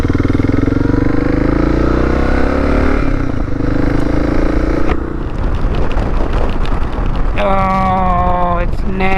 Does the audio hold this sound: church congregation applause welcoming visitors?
no